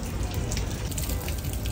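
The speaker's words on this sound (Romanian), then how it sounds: "sunt așa izvoare unde poți bea apă." Water runs steadily from a public drinking spring in a small Greek town, a continuous near splashing gush with no breaks.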